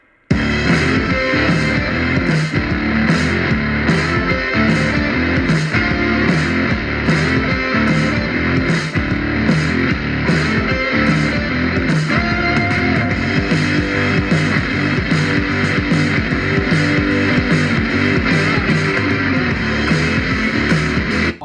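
Loud music with a steady, driving beat plays from a small Mars Pro Shark-14 Bluetooth speaker at full volume, slightly distorted, continuous and close.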